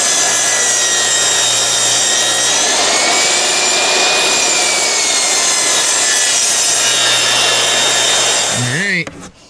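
Wood trim being sawn for a homemade wooden door, a loud, close, continuous rasping saw sound lasting several seconds before it stops abruptly, with a brief voice-like sound at the very end.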